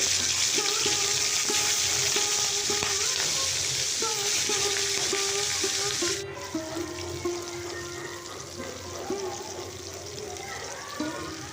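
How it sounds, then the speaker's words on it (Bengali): Prawns frying in half a cup of mustard oil: a continuous close sizzle with occasional stirring knocks, easing somewhat partway through. "1/2 কাপ সরষের তেল দিয়েছি। দিয়ে এবার মাছগুলোকে ভেজে নেব।"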